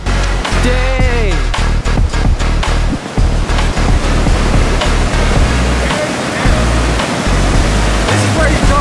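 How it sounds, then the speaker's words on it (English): River rapids rush in a loud, continuous roar of churning whitewater at close range, with excited voices shouting over it. "look at those rapids!"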